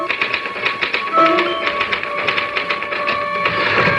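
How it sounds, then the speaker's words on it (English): Rapid typewriter keystrokes clatter in a radio drama, a steady run of close, crisp taps with a faint ringing tone partway through. "Can I use the typewriter for a moment?"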